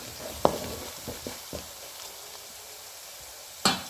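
Chopped onions sautéing in a pan for Tamil-style chicken kuzhambu give off a soft, steady sizzle. A few sharp clicks of stirring sound near the start and one louder clack comes near the end, with no talking.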